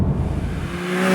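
A Porsche 911 Turbo S flat-six engine revs high past 6,000 rpm, with a loud, steady mechanical roar and a rising tonal whine that emerges toward the end, with no talk over it.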